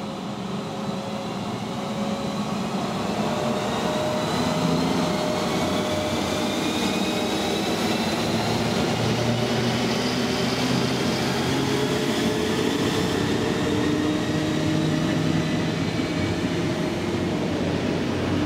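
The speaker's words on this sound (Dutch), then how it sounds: "luisteren zometeen wanneer deze trein gaat vertrekken naar het specifieke geluid dat deze Alpenstofzuigers maken" Alpine electric locomotive hauling a Eurocity train departs at Rosenheim, a steady loud drone of traction motors and rolling wheels with rising whining tones, continuous throughout.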